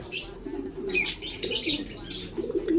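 A racing pigeon gives soft, repeated coos mixed with a few brief chirps, close by and fairly quiet.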